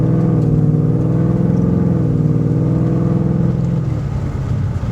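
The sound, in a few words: 2018 Whipple supercharged Mustang accelerating on a roll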